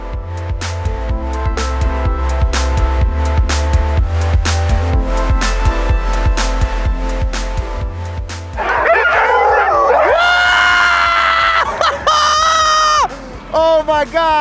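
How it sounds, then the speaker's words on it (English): Sled huskies barking and yipping near a dog sled in Banff, Alberta, with a busy steady music track dominating the first half, then excited barks and yelps louder and clearer in the second half. "we're gonna go sleigh riding, just like Santa Claus, but instead of reindeer, we have dogs."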